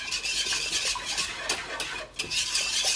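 Cheese sauce for mac and cheese stirred in a pot, a spoon scraping and clinking steadily against the metal close up, continuous and fairly loud with a faint bubbling sizzle underneath.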